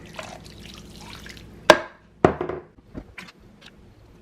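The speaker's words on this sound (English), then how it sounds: "So we're just gonna pour this down in there." Chicken bouillon mixed with warm water is poured into a slow-cooker pot for a budget family dinner, giving two sharp splashing bursts followed by a few softer drips, close and fairly loud with no talking.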